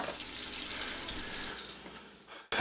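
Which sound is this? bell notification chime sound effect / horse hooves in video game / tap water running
tap water running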